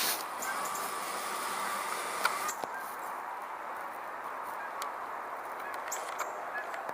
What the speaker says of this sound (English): Canada geese sound like they're in the air